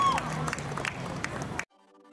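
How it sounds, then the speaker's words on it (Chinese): An audience at a high school dance performance in a concert setting gives brief, loud applause with crowd noise before the sound cuts off abruptly. "那我们大家再给他们一个热烈的掌声，好吗？"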